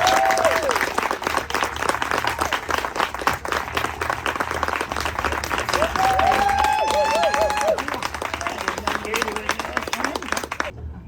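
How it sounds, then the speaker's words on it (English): A crowd at a 100-year celebration event gives a long, dense round of applause, continuous clapping with scattered cheers and voices layered on top, staying loud and full for about eleven seconds before cutting off. "So let's give her a round of applause."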